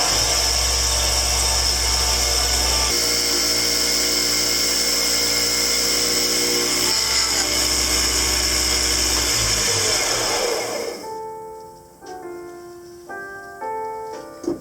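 A wood bowl spins on a lathe while a sharp chisel cuts into it, producing a loud, continuous machine drone with scraping tool noise that shifts over time, then the motor winds down near the end, leaving fading ringing tones.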